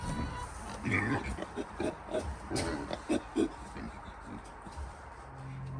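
Meat pigs grunting and oinking in their pen on a homestead, a series of short, close, moderately quiet grunts in irregular bursts.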